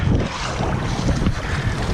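Strong gusting wind roars over open water around a kayak, buffeting the microphone in loud, uneven bursts with a rushing, turbulent wash beneath.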